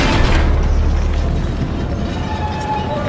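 A deep, heavy boom from a tank cannon round striking the turret of a German Tiger tank, loud and sustained with rumbling low-end decay across the whole stretch.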